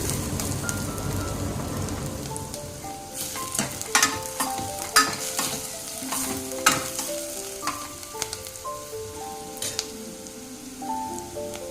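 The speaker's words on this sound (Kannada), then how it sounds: "ಈರುಳ್ಳಿ ಚೆನ್ನಾಗಿ ಫ್ರೈ ಆಗಬೇಕು. 5 ನಿಮಿಷ ಫ್ರೈ ಆದರೆ ಸಾಕು." Onions fry in a pan for an idli sambar, a steady sizzle running throughout with repeated sharp scrapes and clicks of stirring, close and fairly loud, with no talking.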